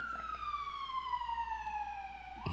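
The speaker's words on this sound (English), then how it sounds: "we got cops sirens going by" A police car siren wails past, a loud descending electronic tone that sweeps steadily downward over a low road rumble, with no talk.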